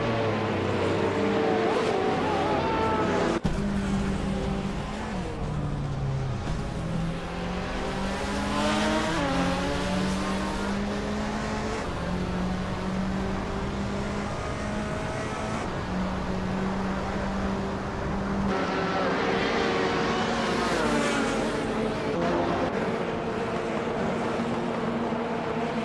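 Race cars roaring through a racing video game, engine whine climbing and dropping steadily for the whole stretch with barely a pause, loud and close.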